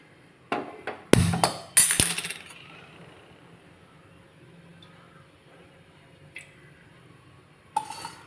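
A metal wok is set down on a kitchen stove as cooking oil is poured in, giving a few sharp close metallic clanks and clatters, then a quiet stretch with one soft knock and a final clank.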